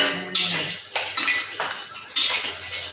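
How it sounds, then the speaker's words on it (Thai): Pork cracklings are stir-fried in a pan, a spatula scraping and clanking against the metal in irregular bursts under a light sizzle, close and fairly loud. "ผัดกากหมูก่อน นี่ให้กากหมูมัน กรอบหน่อยนึง"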